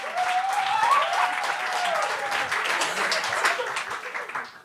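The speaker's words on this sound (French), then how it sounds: "Applaudissez-vous d'être là!" An audience at a comedy show applauds steadily for several seconds, a dense wash of clapping that fades out at the end, with a voice briefly audible near the start.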